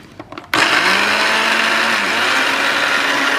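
An electric blender starts abruptly after a few faint knocks and then whirs loud and steady while pureeing pineapple, its motor pitch dipping slightly as the fruit churns.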